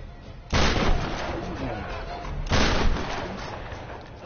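Two loud gunshots from a PS4 video game, sharp blasts about two seconds apart, each followed by a rumbling decay.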